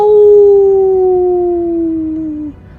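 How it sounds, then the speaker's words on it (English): A single long, smooth wolf howl holding a steady pitch and slowly sliding lower before cutting off, clear and close against a quiet background. "you see the wolves up on top of the hill. Howl!"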